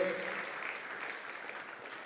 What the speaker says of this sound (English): Big round of applause, ladies and gentlemen, to her for hosting us today.